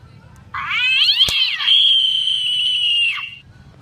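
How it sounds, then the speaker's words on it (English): A single loud, drawn-out, whining call in a cat-like voice rises and holds for about three seconds before cutting off, close and clear over a quiet background. "Cute, it's a kitty."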